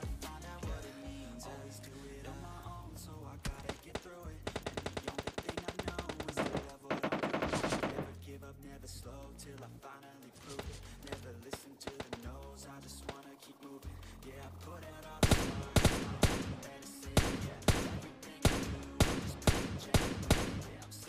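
Gunfire in the mobile battle royale game PUBG Mobile Lite comes as rapid automatic bursts and sharp single shots, repeated throughout. A louder cluster of closely spaced shots near the end stands above continuous game background sound.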